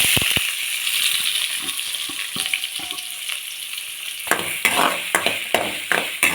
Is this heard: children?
no